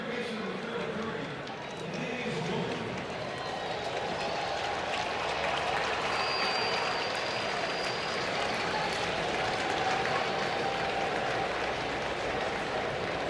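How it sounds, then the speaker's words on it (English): Cardinals fans applaud at an MLB baseball game between the St. Louis Cardinals and Minnesota Twins in Minneapolis, a steady wash of crowd clapping and noise filling the ballpark while a commentator talks over it. "Cardinal fans give Blaze a nice round of applause"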